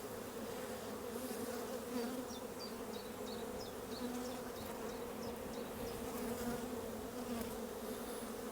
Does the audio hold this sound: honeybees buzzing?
yes